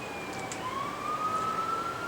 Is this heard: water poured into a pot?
no